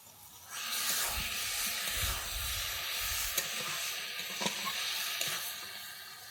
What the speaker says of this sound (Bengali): দইটা দিয়ে কিন্তু এইভাবেই নাড়তে থাকবো